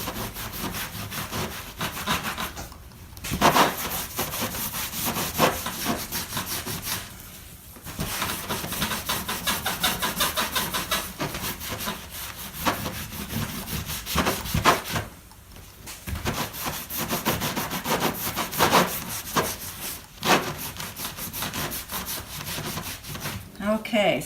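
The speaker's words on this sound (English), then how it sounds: "now I'm going to come back with my rag and just wipe it down" A rag wipes down a mosaic chalkboard in steady, rhythmic rubbing strokes, close up and fairly soft, with a scratchy, sanding-like texture and short pauses between runs of strokes.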